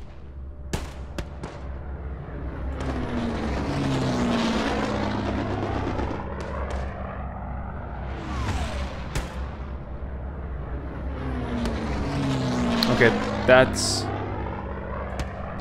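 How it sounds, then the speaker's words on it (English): Aircraft fly overhead in the World War II shooter Hell Let Loose, a broad engine drone swelling and fading twice amid distant gunfire and artillery, with players talking over it. "that's our planes, I hope."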